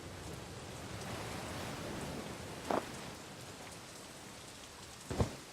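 Steady rain falls in the video game The Dark Eye: Chains of Satinav, a soft even hiss of drops broken by two brief sharper splashes or thuds.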